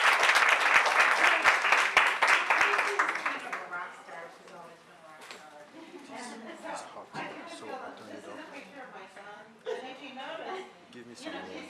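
An audience at a women's fibroid discussion event at Truman Medical Center claps loudly for a few seconds, the dense clapping fading into scattered claps as voices begin talking.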